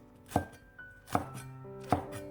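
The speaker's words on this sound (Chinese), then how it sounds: "下面准备半截大葱，斜刀切成段" A knife slices half a large scallion diagonally into sections on a cutting board, giving three crisp, evenly spaced chops close by with no talking.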